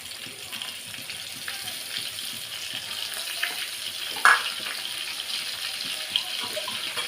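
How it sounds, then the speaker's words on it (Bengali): Ground spice paste sizzles and fries in hot oil in a pan for a meat curry, a steady close crackle with a brief sharper burst midway, no voices. "এবার দিয়ে দেবো ভেজে মশলাগুলো বাটনা করেছি সেটা।"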